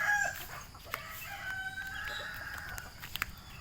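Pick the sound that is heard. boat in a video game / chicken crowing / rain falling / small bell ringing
chicken crowing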